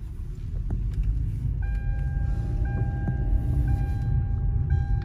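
A car pulls into the back lot of a tire store with a steady, close engine rumble, while a repeating electronic beep sounds at regular intervals over the top.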